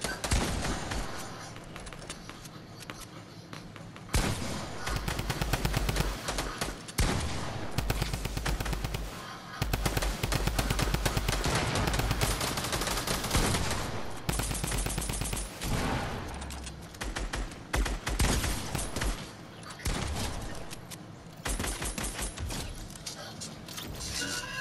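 Repeated bursts of automatic gunfire in Fortnite, loud and rapid, broken by short gaps, with a voice talking over parts of the shooting.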